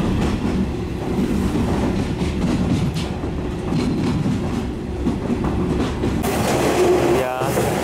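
A white KiHa 47 diesel railcar with a blue stripe rumbles past close by in Japan with a heavy, continuous roar and rhythmic rail clatter, while a person speaks over it.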